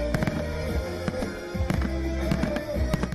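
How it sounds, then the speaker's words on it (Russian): New Year fireworks boom and crackle repeatedly, with sharp bangs popping out over a continuous rumbling backdrop. "а в небе сверкает салют"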